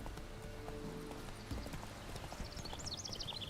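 Horse hooves clip-clopping at a steady walking rhythm in The Witcher 3 game, with faint game ambience and a brief high whistle-like sound near the end; nobody speaks.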